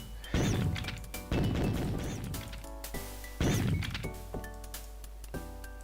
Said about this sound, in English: Shooting mice.